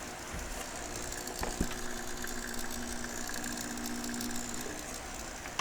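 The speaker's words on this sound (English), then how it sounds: "I feel like maybe it's just a loud motor." A flip clock's small motor runs with a steady mechanical whir and ratcheting hum, a continuous close drone with one faint click partway through, and no speech.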